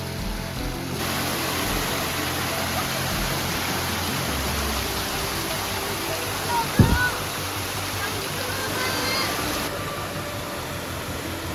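Nanuoya waterfall near a tea estate in Nuwara Eliya, running with low flow, gives a steady broadband rush of water throughout, with a brief thump partway through.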